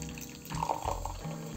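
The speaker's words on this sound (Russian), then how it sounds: "Наливаем." Gorilla Orange drink mix, freshly prepared and steaming, is poured into a glass, giving a steady, close splashing gurgle of liquid that runs continuously with a slight surge in the middle, with no talking.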